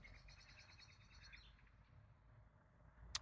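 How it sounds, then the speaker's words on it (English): Birds chirp and tweet in a quiet outdoor setting, a light patter of calls over low background noise that thins out partway through. "Birds."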